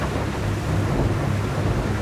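Whittley AL series aluminium boat turning on open water, with a steady broadband rush of hull, spray and wind noise and a low motor hum underneath, fairly loud and continuous with no talk.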